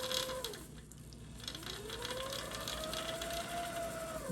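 Sewing machine bobbin winder spinning a bobbin full of pink thread on a new winder tire, a continuous mechanical whir with a whining tone that dips and then climbs steadily, alone and fairly quiet.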